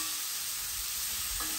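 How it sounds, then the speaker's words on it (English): Ground beef browning in a hot pan for zucchini chili, a dense, steady sizzle and crackle with a brief scrape or stir near the end, no talking. "chopping a block of ground beef in the pan to get it nice and crumbly"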